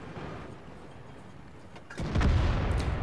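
A T-150 tank cannon fires in an online tank battle game, a single deep boom over steady engine rumble and ambient battle noise, loud and close.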